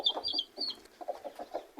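Chickens in a henhouse at a rural yard near Bishkek give quick, soft clucks in an irregular stream, with a few higher chirps above, fairly close.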